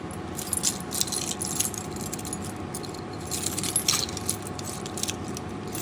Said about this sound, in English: I'm gonna get my keys out and shit.